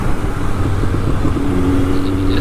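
A 2013 Triumph Speed Triple 1050 R motorcycle engine drones steadily and loud, its tone rising slightly as it accelerates, with rushing wind noise over it.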